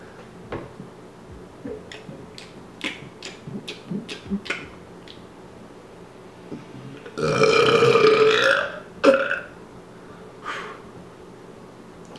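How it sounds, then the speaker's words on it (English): One very big, long, loud burp rumbles for about two seconds close up, preceded by quiet shuffling and light ticks and followed by a short sharp click. "Do the biggest burp ever."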